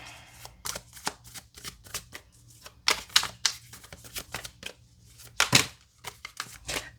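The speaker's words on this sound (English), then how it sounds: "I'm going to give it a little bit more of a shuffle, and I'll cut the deck." Tarot cards riffle and snap in quick bursts, with crisp shuffling sounds followed by softer taps as the deck is cut, close and clear with no talking.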